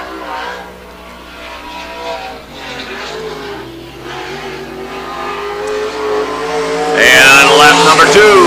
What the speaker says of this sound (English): White flag for Kyle, first time around